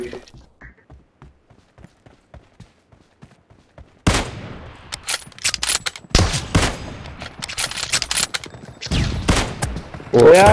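Gunfire in PUBG Mobile, with faint, sparse distant shots at first, then a sudden loud stretch of rapid bursts and heavy volleys, close and clustered, as voices talk over the fight.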